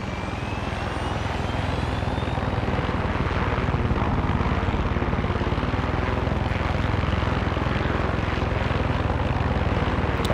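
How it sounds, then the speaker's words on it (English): A helicopter in the video game Far Cry 6 roars loud and close throughout, a continuous dense rotor and engine drone with no pauses. "Conveniently placed chopper."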